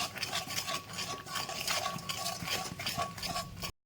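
A bottle gourd curry is stirred and sautéed in a pan, the spoon scraping and clinking against the metal in a steady rhythm over a continuous sizzle, close and fairly loud, with no talk.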